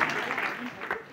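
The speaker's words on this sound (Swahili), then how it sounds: "Wapi makofi yake one more time." An audience claps for a girl dancer at a group dance event, a steady patter of applause running beneath a speaking voice for about a second.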